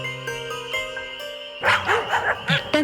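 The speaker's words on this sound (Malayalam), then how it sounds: "പെട്ടെന്ന് ഇരുട്ടിൽ നിന്നും നായ്ക്കൾ ഭൗ ഭൗ എന്ന് കുരച്ചുകൊണ്ട്" Cartoon dogs bark at night in a sheep pen, several quick barks starting partway through, loud and close, after a sustained musical tone.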